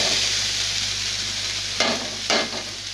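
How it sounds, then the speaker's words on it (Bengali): A loud, continuous close sizzle of spiced masala frying in a pan, with two sharp bursts as boiled banana blossom is tipped in and hits the hot oil. "এবার আমি সেদ্ধ করে রাখা মোচাটা দিয়ে দিচ্ছি"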